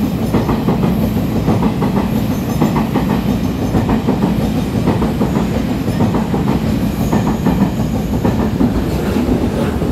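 Taiwan Railway passenger train with electric locomotive running past at close range, a steady loud rumble of wheels with rhythmic clickety-clack over rail joints throughout, no voices.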